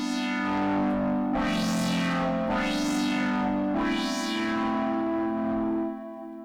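A buzzy, distorted synthesizer from Arturia V Collection 11, with reverb and distortion effects, plays three long swelling notes whose harsh upper tones rise and fall, ringing out loudly before cutting off.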